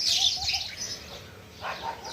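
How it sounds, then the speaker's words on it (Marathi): House sparrows chirp in a dense cluster that briefly thins out, then swells again, with no talking. "चिमण्याचा चुचू चालू आहे"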